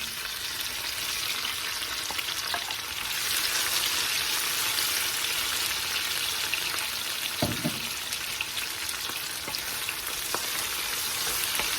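Garlic and dried tomatoes sauté in hot oil, giving a loud, continuous close sizzle that runs unbroken throughout, with a brief low knock or stir partway in.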